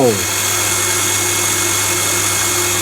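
A small water pump motor hums steadily with a constant low drone and faint mechanical whine, running smoothly after a brief falling tone at the start, its earlier noise from a loose shaft now gone.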